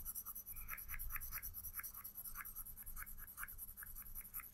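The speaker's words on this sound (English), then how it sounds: "I'm going to darken it in using my grey pencil" Grey pencil shading on paper: a steady run of short, close scratchy strokes in a quick back-and-forth rhythm, with no talk.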